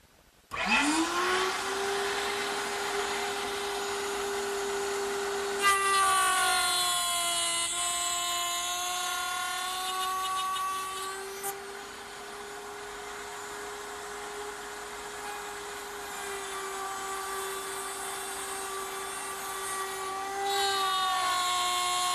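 A router at a router table runs steadily as wooden rails for a bedside table are cut, a loud sustained whine that shifts pitch slightly as the bit engages the wood, with no talking.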